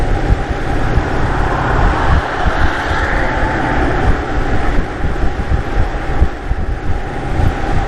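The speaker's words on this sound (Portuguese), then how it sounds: "Novamente mais um comboio de mercadorias a passar." A freight train passes on the Route 66 plateau between Grants and Gallup, New Mexico, giving a steady broadband rumble and clatter for the whole stretch, mixed with heavy wind buffeting the microphone.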